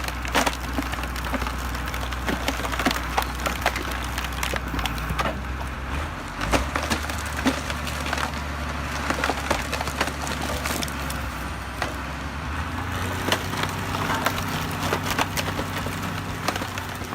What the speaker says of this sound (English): the Nava H60 is a powerful firewood splitter specifically designed for large logs and requires a lot of power